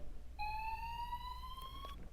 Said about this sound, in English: A fire alarm at the inconvenient time of the day.